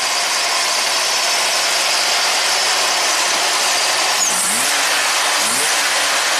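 A 1985 Oldsmobile engine with a power loss runs steadily at idle with a rough, constant broadband rumble and hiss, heard up close without voices.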